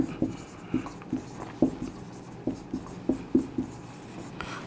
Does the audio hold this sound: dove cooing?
no